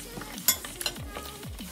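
A steak sizzles while it cooks, a soft frying hiss heard close up, broken by a few sharp clinks and scraping knocks from utensils.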